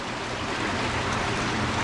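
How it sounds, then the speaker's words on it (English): Recycled wash water gushes and splashes steadily through the manure gutters of a dairy barn, a close, continuous rushing wash with no talk. "Just gonna rinse out the manure gutters."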